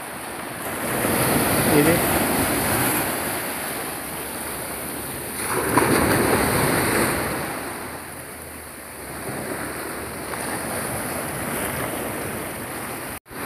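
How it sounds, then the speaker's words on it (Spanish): Strong ocean surf pounds the beach and rocks at Cabo Tortuga near Santa Marta, a continuous roar of breaking waves with wind buffeting the microphone and a brief spoken word. "Aquí ya se nota más fuerte el oleaje."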